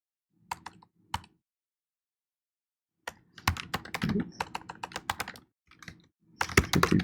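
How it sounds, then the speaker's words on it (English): Computer keyboard typing in quick irregular bursts of clicks, a pair of isolated taps, a pause, then a longer flurry of keystrokes, close and fairly quiet. "I can't type fast enough today"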